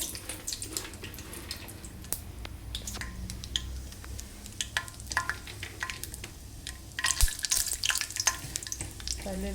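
Peanuts frying in hot oil in a pan for jidipappu upma, a close crackling sizzle with scattered stirring clicks that grows busier and louder toward the end, no talk.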